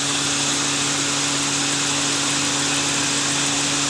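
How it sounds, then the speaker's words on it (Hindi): A Toyota car engine runs steadily at idle, a close, even mechanical hum with a constant low drone and no voices; no AC compressor noise is heard. "अब आवाज़ तो है लेकिन वो इंजन में से आ रही है"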